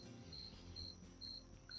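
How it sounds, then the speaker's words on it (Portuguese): A lone cricket chirps in short, regular bursts outdoors beside scrubland on a hot evening, faint and steady with quiet background hiss and no talking. "Talvez você esteja escutando um grilo aí,"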